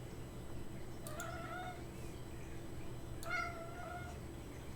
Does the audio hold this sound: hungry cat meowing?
yes